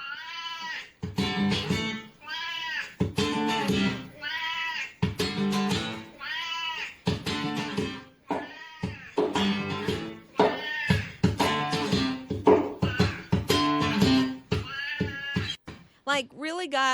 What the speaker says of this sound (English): It's the singing cat.